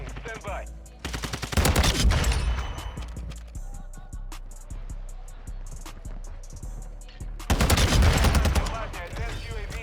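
Automatic gunfire from a TAQ-V rifle in Modern Warfare 2 multiplayer, rattling out in two loud sustained bursts with scattered shots and game noise between them.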